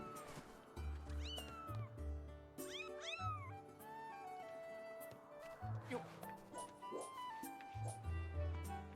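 Several cat meows, some drawn out and rising, over steady game music with low tones beneath, from The Legend of Zelda: Skyward Sword.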